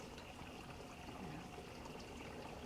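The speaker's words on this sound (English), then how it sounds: "we, enjoy the sound of the running water" Running water from a garden fountain on a front porch, a steady, soft splashing trickle that continues without break, fairly quiet and even throughout with no talking.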